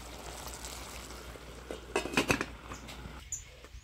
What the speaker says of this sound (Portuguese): E a carne tá aqui cozinhando